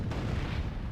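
Artillery barrage from the Myth II: Soulblighter strategy game, heard as a dense, continuous rumble of overlapping booms and blasts filling the whole moment with no pauses.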